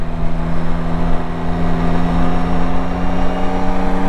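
A Yamaha Tracer 9 GT motorcycle engine pulling hard under acceleration, a loud, steady, throaty drone with a strong low hum held for the full few seconds, heard from close by.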